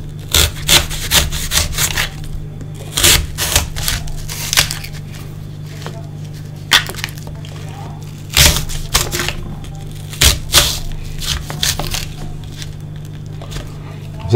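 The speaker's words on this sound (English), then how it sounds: "Cut these up nice and small," Knife chopping ingredients into small pieces on a wooden board for a spirulina shaker drink, with irregular bursts of close, crisp cuts over a steady low hum.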